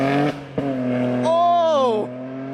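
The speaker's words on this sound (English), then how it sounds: "It's got those burbles and you can hear the turbo spool." A BMW G80 M3 fitted with catless downpipes revs its engine: deep exhaust tones rise and fall with a brief break between bursts, then a higher rising and falling whine like turbo spool, loud and close.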